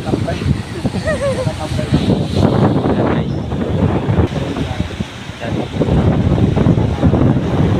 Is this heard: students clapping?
no